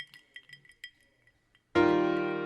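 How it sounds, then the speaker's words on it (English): Ice cubes clinking in a glass open a Mac Miller song, a few light, sparse chinks close up over near silence before a loud, sustained musical tone cuts in and holds. "I think it's like a glass with ice in it. Ice cubes in a glass."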